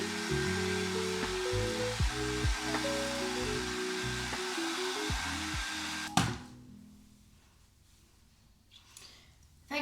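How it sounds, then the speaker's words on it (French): A hair dryer blows on hair with a steady, loud whooshing roar over background music, then cuts off abruptly about six seconds in, leaving only quieter music. "avant-dernière étape, je les sèche au séchoir"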